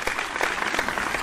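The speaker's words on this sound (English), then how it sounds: "a big, big round of applause to you" A brief burst of applause, many hands clapping in a dense, steady patter with no voices.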